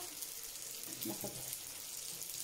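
Almond briouates frying gently in oil, a steady soft hiss of bubbling oil with a couple of faint clinks near the middle, no voices.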